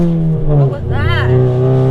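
A Stage 3 MK7 with an APR IS38 turbo launches with wheel hop: a loud, close engine rev that rises and falls over a couple of seconds, with people talking over it.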